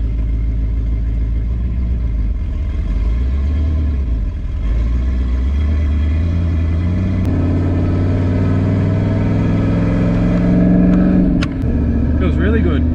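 A Nissan Patrol fitted with an LS1 V8 pulls away, its deep engine drone climbing steadily in pitch as it accelerates partway through, with a voice speaking over the running engine.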